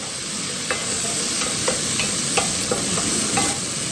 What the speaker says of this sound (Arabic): هطشها بقى بشويه خل